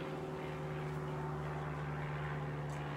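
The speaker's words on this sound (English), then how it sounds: "That's an airplane going by." An airplane passes overhead outdoors, a steady, even drone with a low propeller-like hum that holds constant throughout, with no voices.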